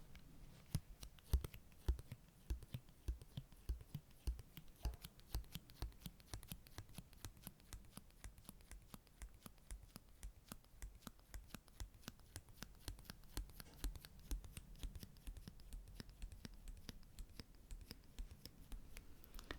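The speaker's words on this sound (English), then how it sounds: "I really like sticker sounds. Let me just take a minute to explore the sticker sounds with you." A sticker is handled and peeled close up in a quiet room, giving a steady stream of soft crinkles, small scratchy ticks and crisp clicks with no talking.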